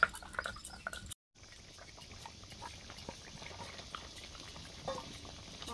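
Fish curry gravy with small fish simmering in a pot, giving a soft, steady bubbling and faint sizzle, quiet and close, with a brief gap near the start.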